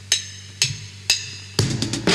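Original drum break from a song, sparse and roomy: evenly spaced cymbal-and-drum hits about half a second apart, then a busier, denser fill of strokes closing the short phrase.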